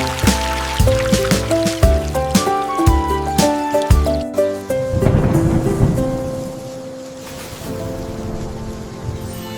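Rain and a rumble of thunder roll in beneath gentle piano music, the storm swelling midway and lingering as the melody fades.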